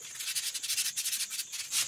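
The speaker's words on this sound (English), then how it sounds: "I'm gonna lightly sand this with some 150." Hand sanding of cabinet door panel edges with 150-grit sandpaper, a light, rapid back-and-forth rasping of paper on wood in quick repeated strokes, close and moderately quiet.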